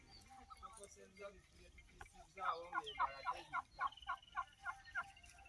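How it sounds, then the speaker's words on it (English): Turkeys gobble on a homestead, a run of about eight rapid, rhythmic gobbling bursts at close to moderate distance following softer earlier calls, with faint voices in the background. "We've got some beautiful chickens and turkeys."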